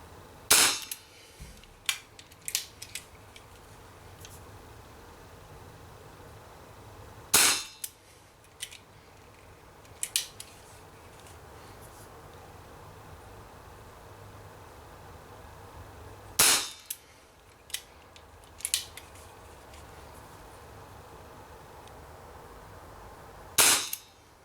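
A Borner 733 BB revolver fires single action, four sharp loud shots spaced several seconds apart, each followed by small mechanical clicks of cocking and handling in a quiet room.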